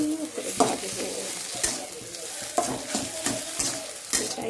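Potato, egg and prawn mash being fried and stirred in a pan, with steady sizzling and repeated scraping strokes of a spatula throughout, close and fairly loud.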